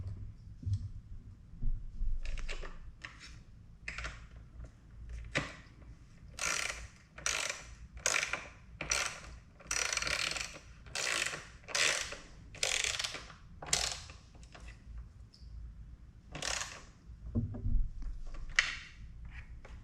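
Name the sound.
12mm socket ratchet on Yamaha MT-07 side cover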